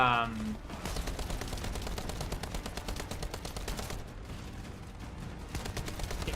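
Rapid automatic weapon fire in the video game The First Descendant, a dense unbroken burst of loud shots lasting several seconds with a brief gap partway through.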